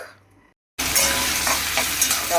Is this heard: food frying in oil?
yes